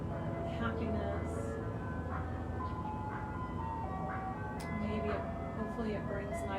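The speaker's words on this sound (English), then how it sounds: "If you heard that ice cream truck, maybe it brings some sensation of joy, happiness" An ice cream truck rolls through a residential neighborhood, its tinkling jingle melody drifting at a moderate distance over a steady outdoor background hum.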